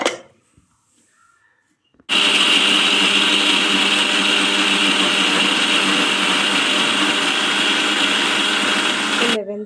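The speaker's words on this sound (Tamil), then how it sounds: "மிக்ஸி ஜாரில் போட்டு அரைச்சி எடுத்துக்கிட போகிறோம்." After a brief quiet stretch with faint handling noises, a mixer grinder grinding fenugreek seeds starts abruptly and whirs loudly and steadily for several seconds, then stops.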